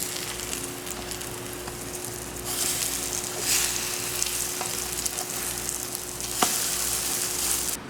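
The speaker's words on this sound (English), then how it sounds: "you basically keep it on the stove until it gets nice and brown on each side" Soaked bread slices for French toast frying in a pan on the stove, producing a steady, soft sizzle that swells slightly partway through and continues evenly, with a faint background hum and no talk.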